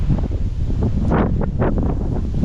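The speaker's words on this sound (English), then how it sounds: "it's windy" Gusty wind blasting against the microphone in loud, uneven rushes and buffets, with no one talking.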